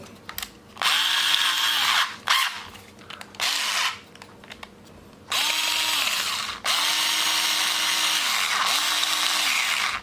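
A cordless drill fitted with a chuck adapter and a metal drilling bit whirs in bursts, starting and stopping several times, then runs in two longer stretches; close and loud, with no talking.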